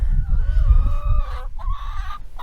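Hens in a wooden chicken tractor cluck and croon nearby in drawn-out, warbling calls, one after another, over a low rumbling background.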